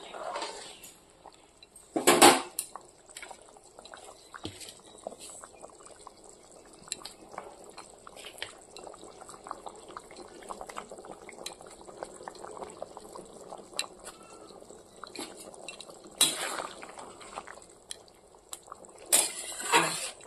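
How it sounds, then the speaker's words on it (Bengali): A pot of vegetable curry bubbles and simmers steadily on the stove, with occasional clinks of utensils and brief louder bursts of noise. "জল দিয়ে দিয়েছি সবজিতে, টকবক করে ফুটছে"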